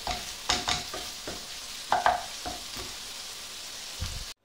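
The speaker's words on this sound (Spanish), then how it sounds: "No quiero tampoco tener el fuego muy fuerte, que no quiero que se me queme lo que es la cebolla" Onion frying in a pan over low heat, with a soft steady sizzle and a few louder clatters of stirring, close and alone with no talk.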